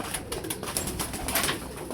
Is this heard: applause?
no